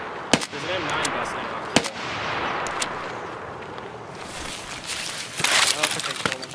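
Sniper rifle shots crack out sharply in a chaotic video game match, a few spaced loud reports followed by a denser burst of gunfire, with voices talking over the action.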